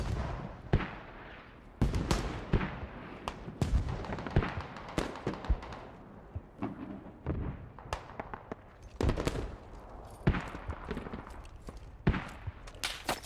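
Gunfire in the military shooter video game Squad, sharp cracks and booms at irregular intervals, some near and loud, others more distant, alone without talk.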